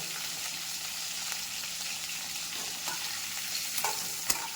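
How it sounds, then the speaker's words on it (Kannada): Cut eggplant pieces frying in oil, a loud, continuous dense sizzle and crackle close by with a few faint taps near the end, no talking. "ಬದನೆಕಾಯಿನ ಕಟ್ ಮಾಡಿ ಇಟ್ಕೊಂಡಿದ್ವಲ್ಲ ಅದನ್ನು ಸ್ವಲ್ಪ ಫ್ರೈ ಮಾಡ್ಕೋಬೇಕು ಹಂಗೆ ಹಾಕೊಳ್ತಾ ಇದ್ದೀನಿ ಎಣ್ಣೆಗೆ ಸೌಂಡ್ ಹಂಗೆ ಐತೆ"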